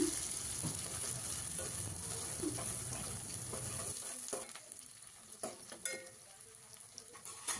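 Cumin seeds and chopped onions fry in oil in a kadai with a bright, close sizzle that later drops quieter, broken by scattered scraping and stirring knocks.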